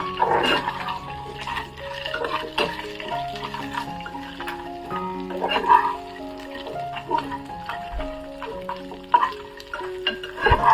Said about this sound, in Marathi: त्याच्यामध्ये ह्या मिरच्या टाकायच्या ह्या पण चांगल्या परतायच्या